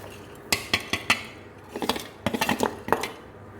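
Boondi ladoo mixture with powder being stirred in a vessel, giving close, irregular clinks and scrapes of a spoon against metal in short clusters.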